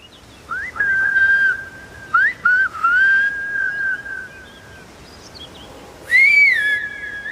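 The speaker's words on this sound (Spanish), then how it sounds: "hay agua con el silbo gomero para que abra abajo las llaves para regar" Loud, piercing Silbo Gomero whistled language in the Canary Islands, sliding pitches, several short bursts then a longer held whistle, carrying clearly over quiet background.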